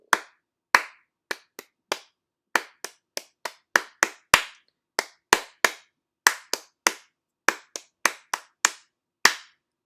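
A single pair of hands claps out a rhythm pattern in a music lesson, with about two dozen sharp, close claps in uneven groupings against silence.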